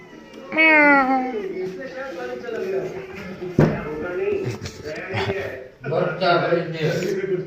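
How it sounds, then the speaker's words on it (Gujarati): A cat meows loudly several times up close, drawn-out and plaintive, with a person's voice mixed in between the cries. "અમારી કેટ છે"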